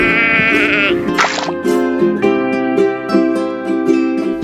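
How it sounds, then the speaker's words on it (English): A sheep bleats several times in loud, wavering calls, close and clear, with a buzzing insect-like sound briefly in the background. "sheep are ruminant mammal, typically kept as a livestock."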